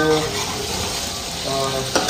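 Paneer chilli stirring and frying in a pan at a farmhouse kitchen, a steady close sizzle with scraping utensil strokes and occasional metallic clinks throughout.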